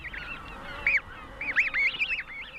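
Snow geese honking in a large colony of about 200,000 birds, several nasal calls overlapping in quick bursts, fairly close and clear.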